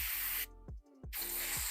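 An airbrush sprays paint onto a 3D-printed figure in short hissing bursts, two steady jets separated by a brief pause with a faint click, close and fairly quiet.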